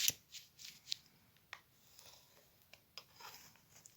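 Chalk or pencil traces around a sewing pattern laid on fabric, producing faint, irregular scratchy strokes and light rustles, close and quiet, with no talking.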